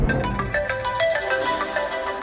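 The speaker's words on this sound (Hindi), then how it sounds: "अब मेरे फोन पर फोन कर रहा है।" A mobile phone ringtone plays a repeating melodic tone pattern nearby, steady and clear throughout with no voices over it.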